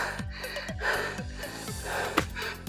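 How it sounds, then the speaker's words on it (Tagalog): Heavy panting after climbing a hill past crop fields and cattle pastures in the countryside: a steady run of close, rhythmic gasping breaths, loud and alone with no talk. "Hingal naman."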